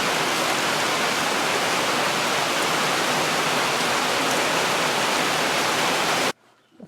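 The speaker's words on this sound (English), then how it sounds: "The rain came." Steady rain falling outdoors at a building site, a dense, even hiss that runs loud and unbroken for several seconds before stopping abruptly.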